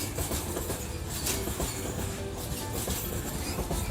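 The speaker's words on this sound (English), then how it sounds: "transported on a freight train, led by the GOC WDG 4D diesel locomotive" A freight train led by a WDG-4D diesel locomotive rumbles past steadily, with continuous heavy rolling noise and faint clattering of wheels on track throughout.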